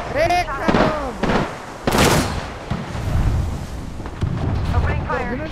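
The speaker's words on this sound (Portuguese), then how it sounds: "Tô ouvindo tiros!" Loud booming gunshots in the game Apex Legends crack out several times, mixed with excited voices talking and shouting over them.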